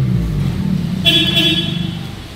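A Honda Civic tenth generation's exhaust in sport mode gives a steady, loud engine rumble with a brief brighter tonal burst partway through, close by and with no voices.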